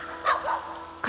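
A stray dog tied up with a rope gives a short, raised bark outdoors, one brief yelp-like call followed by a sharp onset at the end.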